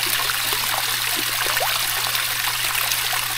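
Water runs steadily down a homemade backyard pond waterfall, a continuous close trickling and splashing wash with no pauses and no voices.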